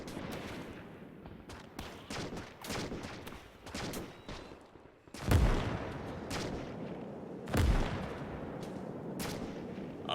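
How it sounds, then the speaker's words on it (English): Naval support artillery in a WW2 Pacific battle game set on Saipan, with a spread of gunfire cracks and two heavy, booming impacts around five and seven and a half seconds over a rumbling battlefield backdrop, no talk. "Get that naval support fire"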